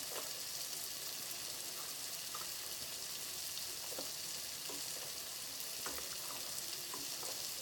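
Onions sautéing in a pan on the stove while spaghetti boils nearby, a steady, quiet sizzle and crackle with scattered soft stirring clicks, no talking.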